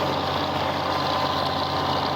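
A tractor engine idles steadily and loudly nearby, a continuous even rumble with a constant low throb and no talking.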